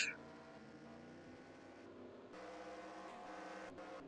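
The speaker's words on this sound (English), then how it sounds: "He's got a bad hit there, but Billy Ryan's spinning, Greg Lovell's sp" Race cars roar around Talladega in a racing video game, a continuous engine drone that swells louder midway with faint wind-like whooshes, without talking.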